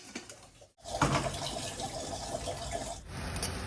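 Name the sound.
water poured into pot of toor dal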